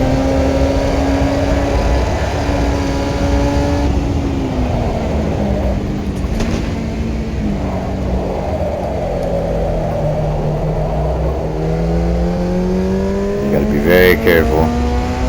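An F1 junior race car in a racing video game drones loudly, its engine tone sliding up and down through gear changes and hard acceleration while someone talks over it.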